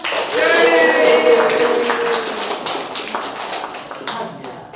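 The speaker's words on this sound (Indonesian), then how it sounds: "Tepuk tangan semuanya" A group claps hands in a burst of overlapping claps that is loudest at the start and gradually thins and fades. A voice speaks over the early part.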